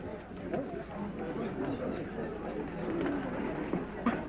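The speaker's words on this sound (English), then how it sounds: "A flock of doves" A flock of doves coos softly in a 1978 Thief of Baghdad film scene, a steady low warble running throughout beneath near-constant overlapping voices and chatter.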